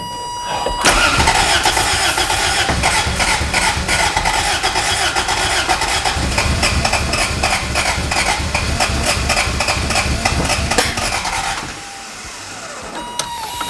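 Abandoned Toyota MR2 engine cranking over and over as it tries to start, a loud rapid rhythmic starter churn lasting about eleven seconds, then stopping abruptly to a quieter tail.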